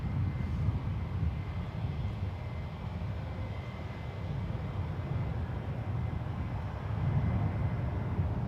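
An ANA Boeing 787-9 Dreamliner in Future Promise livery at San Francisco International Airport produces a steady, broad jet engine roar, a low rumbling wash that holds fairly even at some distance.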